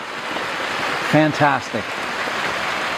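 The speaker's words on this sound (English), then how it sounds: "I'm out here in the poly house, and as you can see, it is raining." Steady rain patters on the plastic roof of a poly house greenhouse holding bonsai trees, a dense even hiss throughout, with someone briefly speaking over it.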